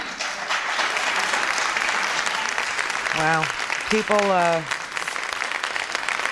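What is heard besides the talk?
audience applause after impeachment hearing adjourned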